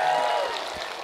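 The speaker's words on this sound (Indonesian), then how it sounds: "Mana tepuk tangannya?" A crowd of students at an Islamic boarding school claps during a religious lecture, a short burst of dense applause at moderate loudness that fades slightly, with faint voices mixed in.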